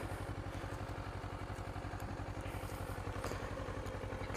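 A Kawasaki motorcycle engine idles steadily nearby, an even low pulsing thrum with light mechanical clatter, no one speaking.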